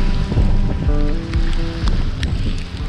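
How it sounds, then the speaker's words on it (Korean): A strong wind gust sweeps across a flooded road in heavy weather, a loud, buffeting roar that batters the microphone in surges, with splashy water noise beneath and no speech. "와, 방금 바람 장난 아니었는데"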